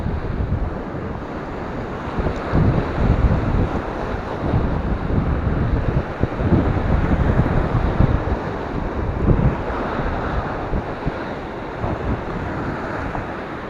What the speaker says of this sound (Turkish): biraz rüzgar var. Fazla konuşamıyorum.